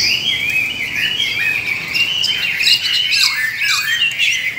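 Hwamei songbirds call loudly and steadily, with dense, rapid squawks, chirps and warbling phrases that overlap continuously. They sound close, with no voices.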